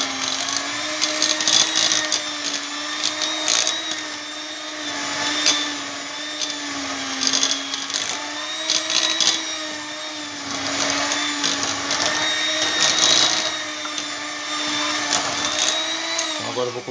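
A steady electric motor whine with harmonic drone from a 1970s Walita Candy portable hand mixer mashing cooked arracacha with butter, rising and dipping slightly in pitch as the load changes, loud and close, then stops at the end.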